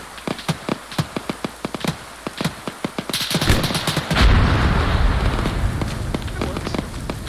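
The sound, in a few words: gunfire in a military video game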